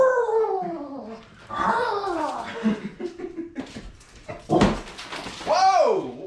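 An excited dog at an office while a giant projector screen is being unboxed gives whines and yelps that rise and fall, mixed with nearby talking and laughter.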